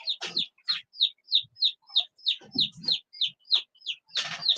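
A bird repeats a sharp, high chirp about a dozen times in a quick, even rhythm. The calls are close and clear, with a few softer lower calls mixed in.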